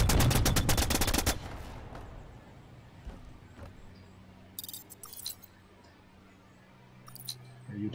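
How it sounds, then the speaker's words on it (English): Orbital gun turrets fire in The Signal From Tolva with a rapid burst of loud automatic gunfire, then quieter game ambience, a few metallic clatters and another short burst at the end. "they dropped some orbital gun turrets down to try to keep the base"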